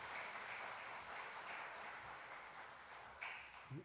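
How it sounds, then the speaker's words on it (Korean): A church congregation applauds during a sermon, a faint, steady wash of clapping heard from a distance, with a couple of sharper sounds near the end. "박수 할까요?"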